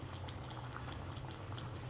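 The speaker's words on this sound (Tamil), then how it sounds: "நல்லா கொதிச்சிருச்சு" Steady, vigorous bubbling of thick paneer gravy boiling in a pan, with continuous popping bursts close up and no voices.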